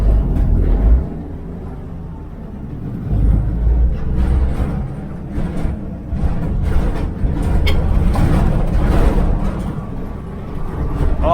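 A 1969 Chevy van rolls along with a loud low road rumble and engine drone, its loose doors rattling and clattering tinnily in irregular bursts over the noise.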